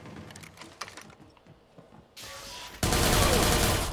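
Bursts of gunfire in the online multiplayer shooter game Watch Dogs 2, beginning as sparse scattered shots and growing into a loud, dense, sustained wash of firing and noise toward the end.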